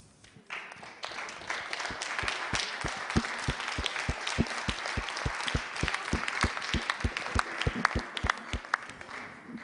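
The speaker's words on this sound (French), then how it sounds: "c'est qu'on va vous applaudir" Audience at an event applauding together, many hands clapping steadily throughout with a pronounced rhythmic beat of strong claps near the front riding over the general clatter.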